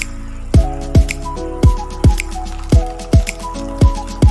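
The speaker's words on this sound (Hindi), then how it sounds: "हमारे इस तड़के में इस दाल को डाल देंगे।" Cooked dal and spinach poured into a hot tempering of spices in a pan, giving a run of about nine wet plopping splats at a steady rhythm, close and fairly loud with no talking.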